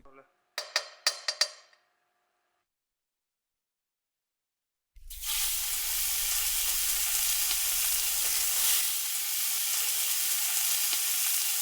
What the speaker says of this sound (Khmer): ស្បែកជ្រក់ក្រៀមឆាជាមួយខ្លាញ់ជ្រូកឲ្យឈ្ងុយទ្របយករសជាតិសាច់ពេញលេញ